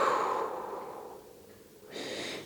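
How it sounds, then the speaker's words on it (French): A slow, deep exhale during a stretching routine, breathy and close, fading away before a second softer breath starts. "Et on expire."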